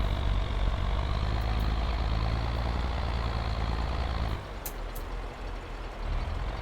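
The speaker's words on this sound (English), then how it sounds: "Why is this tractor struggling so much?" A struggling tractor engine in the Farming Simulator video game drones heavily and steadily, then drops in level for a moment before picking up again, with no speech over it.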